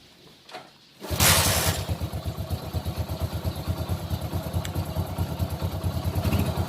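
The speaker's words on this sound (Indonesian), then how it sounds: "selanjutnya kita coba hidupkan mesinnya teman-teman" Honda Win motorcycle engine starting after a quiet pause, catching with a loud burst and settling into a steady, close, rapidly pulsing idle.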